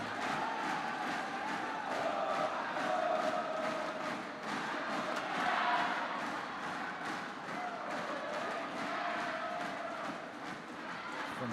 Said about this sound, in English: The crowd are doing their best.